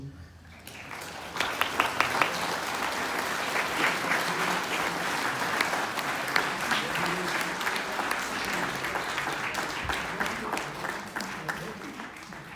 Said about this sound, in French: Les diacres Pierre, Louison, Bruno et Maurice peuvent s'approcher et on peut les applaudir